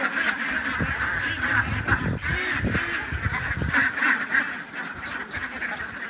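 Egg-laying ducks at a farm sale call in a dense, continuous chorus of honks and quacks from many birds, loud and close throughout, with no talk.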